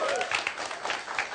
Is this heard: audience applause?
yes